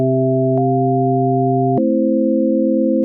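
Sustained FM pad chords from an Ableton Operator synth, soft and bright, holding one chord for nearly two seconds before shifting to another, with a small click near the start, steady and alone.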